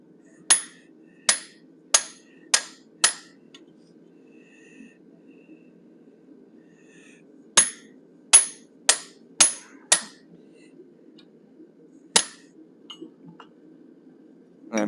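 Hammer blows on an 1/8 inch fuller over hot metal while forging a cougar head, sharp ringing strikes in two quick rhythmic bursts of about five, then a single hit, over a faint background hum.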